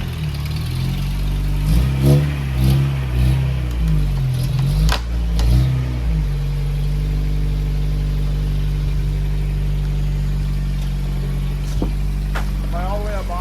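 An off-road vehicle climbs a flex-test ramp while its engine rumbles and revs in several surges, then settles into a steady idle. Voices are heard speaking over the engine.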